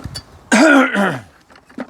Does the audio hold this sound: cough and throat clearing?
yes